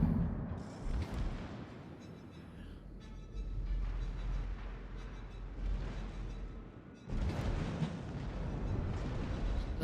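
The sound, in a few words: battleship secondary guns firing in video game World of Warships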